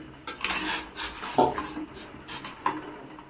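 A utensil scrapes and clinks against a pot as pasta is stirred in boiling water, in short irregular strokes.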